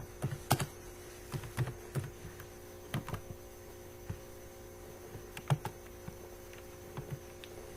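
Keys clatter in irregular bursts of typing as Java code is written on a computer keyboard, close and clear over a steady low electrical hum, with no talking.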